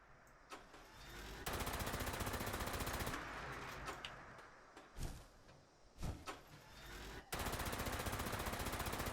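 Automatic gunfire in the Fallout 76 video game comes in long, loud, rapid bursts, broken by a few sharp single shots and short quiet gaps.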